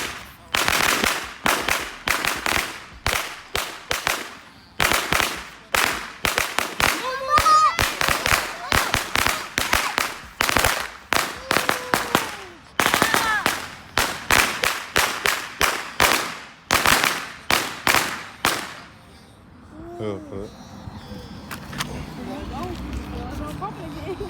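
Fireworks and firecrackers going off the day after Christmas, a rapid run of loud, sharp bangs and crackling bursts for about twenty seconds, then a quieter stretch with people talking and faint pops.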